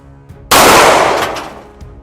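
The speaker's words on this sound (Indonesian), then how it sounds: "ini kita akan melakukan percobaan menggunakan tripod untuk zeroing senjata Glock 19 dengan 5 butir peluru" A single Glock 19 pistol shot fired from a tripod at a 7-meter range: one sharp, loud crack that rings out in a long, fading reverberant tail, with no talk.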